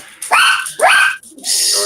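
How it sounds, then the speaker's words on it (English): Two sharp rising yips from the speaker's dogs ring out close by, followed by a further burst of excited barking, all loud and quick in a home setting. "They must have heard my dogs barking."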